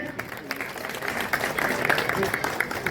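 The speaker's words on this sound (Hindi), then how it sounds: "जोरदार तालियों के साथ स्वागत करेंगे" An audience claps at a BJP political rally in Roorkee, a steady, moderately loud wash of applause mixed with crowd noise and some voices.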